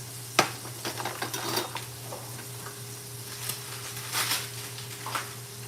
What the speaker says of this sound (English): Let that sear for a little bit.